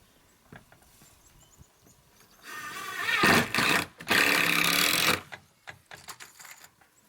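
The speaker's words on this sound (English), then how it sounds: "I'm putting 3 screws each on here" A power drill drives screws into a trailer side, whirring loudly in two close bursts of roughly a second each, surrounded by quieter clicks and handling knocks.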